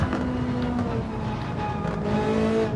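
A Ferrari 458 Italia fitted with a mid-range turbo in a racing game holds a loud, steady engine drone whose pitch dips and climbs as it drives, with no voices.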